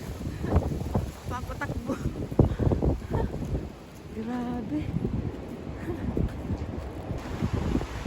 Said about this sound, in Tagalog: Ganyan dito pag January. Mahangin.